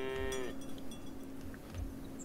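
Cows in the farming game Farm Together 2 give a clear close moo that slides down in pitch, followed by softer ambient game sounds, with no speech.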